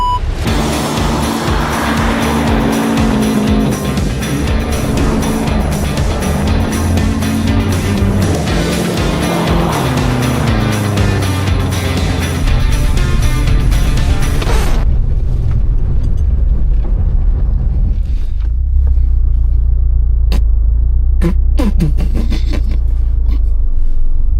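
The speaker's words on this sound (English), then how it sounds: "It's sliding sideways, but it takes more power than I thought it would." A Corvette fitted with saw blade tires revs and slides sideways across a frozen lake, a loud sustained engine roar with shifting pitch that cuts off midway, leaving a low rumble and scattered clanks.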